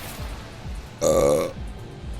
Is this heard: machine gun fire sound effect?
no